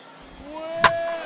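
A bat cracks against the ball in the baseball video game MLB 15 The Show, one sharp hit partway through over a steady background bed of game crowd ambience.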